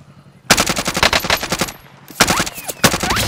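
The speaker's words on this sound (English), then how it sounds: "Receiving hostile fire." Loud, close bursts of machine gun fire in the video game Counter Bounty, a rapid rattling stream, then a brief pause before two more short volleys.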